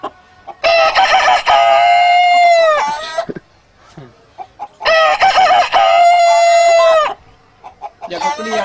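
Two long, loud crows from a man imitating a rooster, each a drawn-out cock-a-doodle-doo rising then trailing off. Brief breathy sounds sit between them, and a third call starts at the end.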